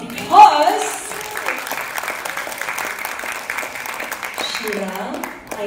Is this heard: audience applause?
yes